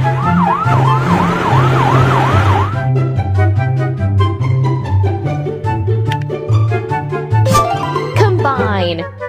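A wailing fire truck siren from a toy vehicle sweeps up and down for a few seconds over loud, steady background music with voices. A few electronic beeps and tones follow.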